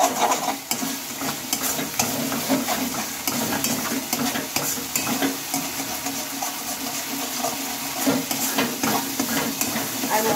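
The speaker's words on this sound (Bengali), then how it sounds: "মশলার সাথে ভালোভাবে আমি ধনে পাতাটা মিশিয়ে নিয়েছি।" Coriander leaves stirred into frying masala, a dense continuous sizzle with busy scraping of a spatula against the pan, close and steady throughout, no talking.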